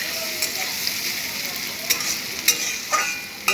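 Radish pieces fry in a pan while a spatula stirs them, a soft continuous sizzle with a few sharper scrapes and clinks toward the end.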